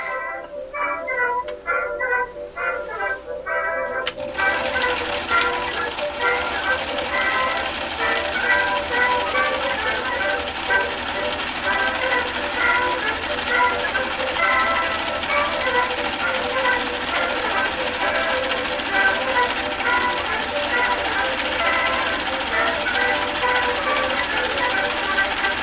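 A Husqvarna Viking sewing machine stitches with a fast, steady mechanical rattle after a few seconds of people talking, then runs continuously and close for the remaining twenty seconds.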